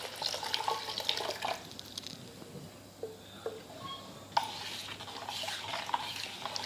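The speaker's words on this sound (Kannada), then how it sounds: "ಈಗ ಇದಕ್ಕೆ 1 ಲೀಟ್ರ್ನಷ್ಟು ನೀರು ಹಾಕೋತೀನಿ ರೀ." Water pours into a neem and jaggery mixture in soft, uneven bursts of splashing and trickling, quiet and close, with brief pauses between pours.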